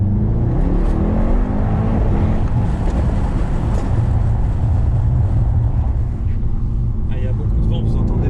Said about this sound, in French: Je vais vous faire une dernière accélération fenêtre ouverte